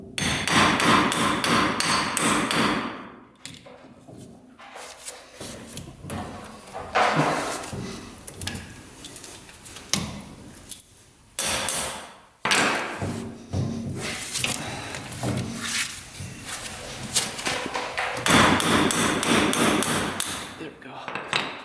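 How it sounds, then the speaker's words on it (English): Repeated hammer strikes pound a part into place on a Polaris Ranger, loud and close, in bursts of rapid metallic blows separated by short pauses and lighter taps. "you can hit on it with a hammer"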